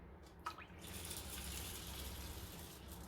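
Water pouring into a bowl of soaking mixed lentils, a faint steady splashing stream that runs continuously after a short initial splash, with no talking.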